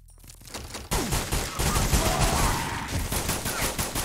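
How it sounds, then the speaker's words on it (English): Dense video-game gunfire, sustained rapid bursts like a fusillade with machine-gun chatter, loud and continuous after a quieter opening second. "Who's shooting me?"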